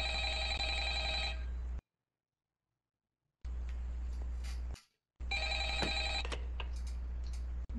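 A telephone rings in the video game Five Nights at Freddy's, three bursts of loud electronic trilling separated by gaps of silence, with a clattering thump during the last burst.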